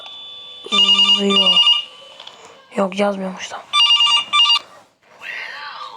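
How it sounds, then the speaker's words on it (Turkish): Telephone ringing in a video game, loud electronic trilling rings in several bursts with pauses between them, and a person speaks in the gaps. "Şimdi buradan telefon çalacak."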